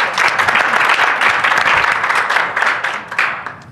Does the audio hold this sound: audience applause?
yes